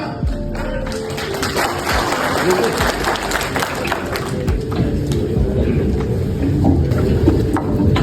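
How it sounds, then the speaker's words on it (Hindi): Steady applause from an audience in a meeting hall at a motivational property-business gathering, dense and continuous for several seconds, with voices mixed in. "आधी जगह से ताली आ रही है, पीछे से नहीं आ रही,"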